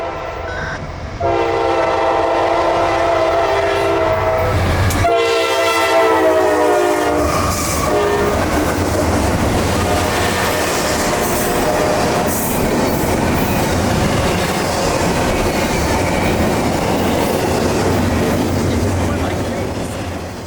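A Norfolk Southern intermodal freight, train 229 out of Jacksonville bound for the Florida East Coast interchange at Simpson Yard, sounds its horn in long blasts, then rumbles steadily past close by with continuous wheel and rail noise.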